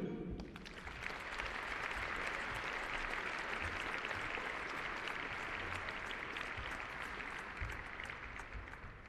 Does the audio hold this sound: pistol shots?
no